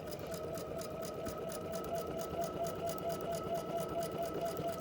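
A sewing machine stitches binding onto a quilt, a quiet steady whirring hum with a fast regular needle pulse, running alone at low volume.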